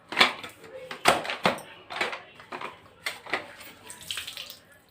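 Water from a self-wringing mop splashes and trickles into a bucket in a quick series of close splashes and drips, while someone speaks over the sound.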